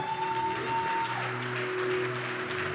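Congregation clapping in praise to the Lord at a prophetic evening worship service, a steady wash of applause with sustained musical tones underneath.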